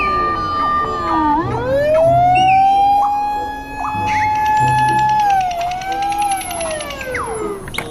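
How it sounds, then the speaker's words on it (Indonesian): A toy fire truck's electronic siren wails loudly and close, rising and falling in a sweeping tone with faint rhythmic mechanical clicks beneath, and no voices. "Wow, ada mobil pemadam kebakaran."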